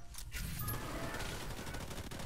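Rapid bursts of gunfire ring out in the video game Tom Clancy's The Division 2, a sharp crack followed by a dense, continuous rattle of shots at close range, filling the whole moment.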